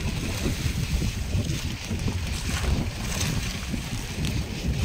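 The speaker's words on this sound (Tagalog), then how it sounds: "Mahangin pa rin ang habagat." A strong southwest monsoon wind blows at sea off the Philippines, a loud, steady rushing roar buffeting the microphone with no break, with only faint water motion beneath it.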